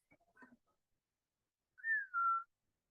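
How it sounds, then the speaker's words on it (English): A person whistles a short two-part tune, a sliding note followed by a held tone, close and clear in a quiet room after a few soft rustles. "That's my whistle."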